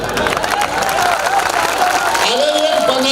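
An audience at a Hindi comic poetry show in Banaras claps steadily and fairly loudly as a voice speaks over the applause.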